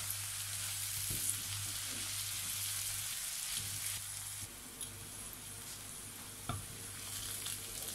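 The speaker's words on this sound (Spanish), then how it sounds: "Vamos moviendo de vez en cuando para que no se nos pegue las verduras." Vegetables sizzle steadily in a hot frying pan while a utensil stirs them now and then, producing a soft, continuous crackle with occasional scraping knocks close by and no voices.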